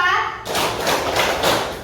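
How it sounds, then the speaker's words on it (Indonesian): Schoolchildren in a classroom give a burst of claps on the teacher's count, several quick overlapping claps that sound loud and close, following a moment of her speaking. "Kalau Ibu bilang tepuk 1, kalian harus tepuk 1 kali."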